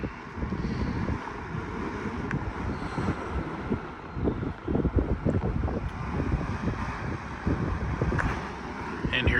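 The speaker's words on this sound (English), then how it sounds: "Super cool fan." A 1960s Toshiba 9-2233 table fan runs at medium speed with a steady airy whoosh, partly masked by outdoor wind buffeting the microphone.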